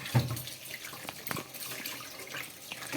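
Tap water runs gently to wash raw mangoes, a soft, steady trickle with small splashes and clinks at a sink. Nearby and fairly quiet, with no talking.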